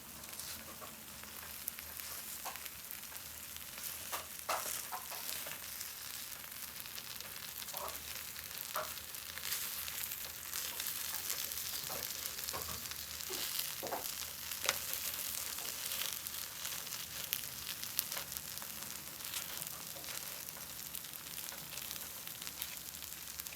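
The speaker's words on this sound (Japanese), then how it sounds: "では綺麗な丸になるようにくるくる回していきます" Takoyaki turned in a pan to round them out, a steady soft sizzle of frying batter throughout, punctuated by faint scattered clicks and taps of the turning pick, with no talking.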